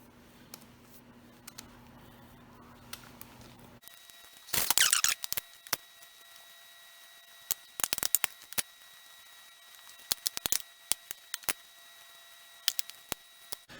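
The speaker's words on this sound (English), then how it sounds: "as we cut those quarters of biscuits, we're going to go ahead and take them and just throw them into our mixture" Refrigerated biscuit dough cut into quarters with scissors for monkey bread, heard as a series of close, sharp snips in irregular bursts over quiet background.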